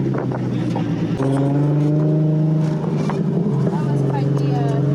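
A Nissan 350Z convertible's engine hums and revs steadily up close, its tone rising and holding under a continuous motor drone, with faint voices underneath.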